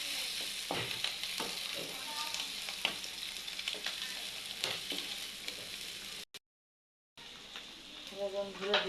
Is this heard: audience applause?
no